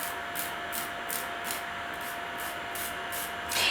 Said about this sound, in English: And then I'm going to file it off.